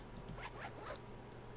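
Zipper pulled in a few quick rasping strokes, close and fairly faint over a low background hum, with no talking.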